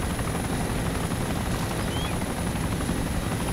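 Steady rotor thrum of a helicopter flying in a military video game, constant and fairly faint, with no voices.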